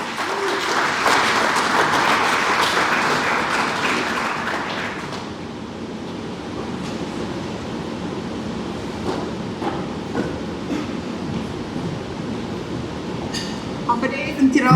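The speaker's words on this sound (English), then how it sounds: "Let's give her a round of applause." Audience applause at the Saipan Chamber of Commerce for Delegate-Elect Kimberlyn King-Hinds, a dense roomful of clapping that holds strong for about five seconds, then thins into scattered claps and murmuring crowd noise.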